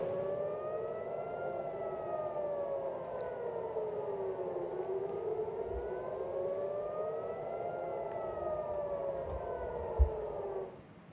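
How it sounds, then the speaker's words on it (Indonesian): Civil defense air raid siren sounding in Israel as a warning of incoming Iranian missile attack, a loud continuous wailing tone rising and falling in slow cycles, heard alone with no talk. "Suara sirine terdengar sebagai peringatan warga Israel adanya serangan."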